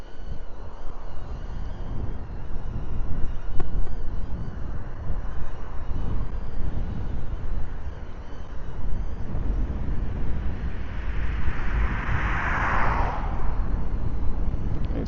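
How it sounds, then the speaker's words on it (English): Wind buffets the microphone while riding a Onewheel Pint S electric board, a loud continuous rumbling roar that stays strong throughout, with no talking. "It's still a bit blowy"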